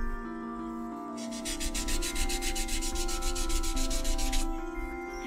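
Sandpaper rubbed back and forth over a carved wooden figure, a fast even rasping stroke pattern that starts after a second and runs steadily over a tonal background hum.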